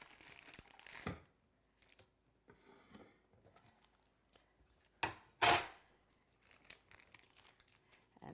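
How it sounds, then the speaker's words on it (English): Parchment paper being peeled from a frozen maple walnut torte gives soft crinkles and a few sharper tearing rips at close range, set in quiet pauses with no talking. "it's easy to peel away the parchment paper"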